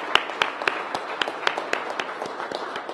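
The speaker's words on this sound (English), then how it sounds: "let's give our Mayor a big round of applause" Scattered applause at a mayoral press event, individual claps standing out sharply at first and then thinning into a lighter, quieter patter over a few seconds.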